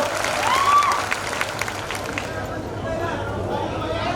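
Applause from an audience at a political rally in Ghansawangi, a steady wash of clapping with crowd murmur underneath that gradually thins out.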